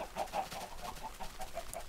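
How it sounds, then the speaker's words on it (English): Chickens cluck in a Minecraft automated chicken farm, a series of short, evenly spaced, quiet clucks against a soft, constant background hiss. "so we get chickens in here, and then we push them across, and then we push them down"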